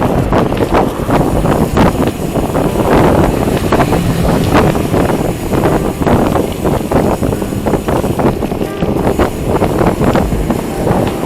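Steady, loud wind buffets the microphone in continuous gusty roaring while cycling fast downhill outdoors.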